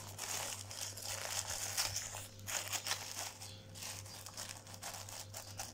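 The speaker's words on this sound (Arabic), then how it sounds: "هنكشف كده بقى الكيس البلاستيك" A plastic bag is pulled back and crinkled over sprouting fenugreek seeds, giving continuous close, loud rustling and crackling with sharper crunches, and no one speaks.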